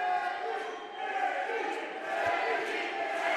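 Boxing crowd in the arena roaring steadily during the last round of a fight, a dense continuous wall of cheering and shouting that swells slightly, without clear individual words.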